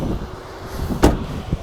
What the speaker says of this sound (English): This door opens up nice and wide